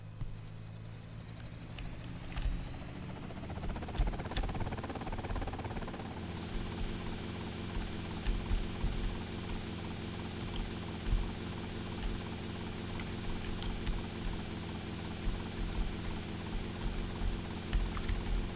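Helicopter in Grand Theft Auto: Vice City, its rotor chopping in a fast, steady rhythm over a low engine drone, loud and continuous as it starts up and keeps flying.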